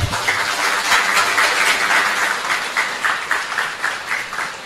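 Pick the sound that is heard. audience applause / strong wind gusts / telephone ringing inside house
audience applause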